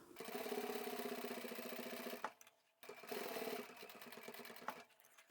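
A sewing machine stitches the lining of a zippered bag in two steady, close-up runs, separated by a short pause with a faint clunk.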